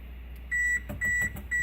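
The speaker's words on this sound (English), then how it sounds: "My oven is ready." An oven signals that it has finished preheating with three evenly spaced electronic beeps, clear and close against a quiet kitchen, with faint clatter between them.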